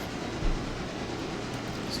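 Locomotives running in the Railroader train simulation game, producing a steady, continuous low rumble of rail movement with a faint hiss, with no talk.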